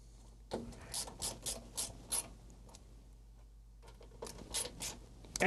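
Screws are tightened on a DECWriter II terminal during cleaning, giving a series of quiet, close ratcheting clicks in two clusters separated by a pause, with faint handling noise.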